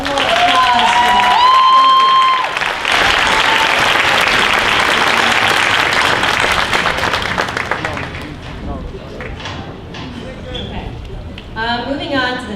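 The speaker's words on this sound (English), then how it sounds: "One more applause for that." Loud, sustained applause from a commencement audience at the Fir Ridge Campus 2026 ceremony, dense clapping filling the first eight seconds before thinning into scattered claps and fading crowd noise.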